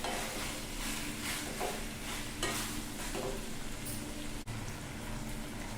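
Chicken frying with ginger and garlic in a pan, a steady loud sizzle with stirring scrapes throughout, close up and without talk.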